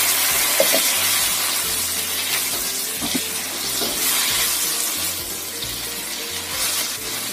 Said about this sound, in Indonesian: Aku tambahkan sekitar 3 sendok makan air.